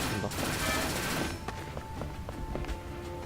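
Rapid bursts of gunfire in the video game WarRock battle royale crackle loudly at first, then give way to scattered single shots and clicks, with no talking.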